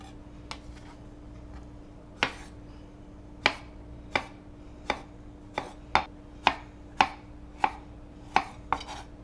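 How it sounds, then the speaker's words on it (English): Knife chopping strawberries on a cutting board: about a dozen crisp, sharp chops in a steady, slightly uneven rhythm, close and clear over a low steady hum, no talking. "We're going to cut some nice strawberries up."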